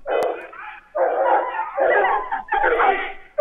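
A pack of hunting hounds from a stag hunt bays and barks in town, several loud, overlapping bursts of barking in quick succession at close range.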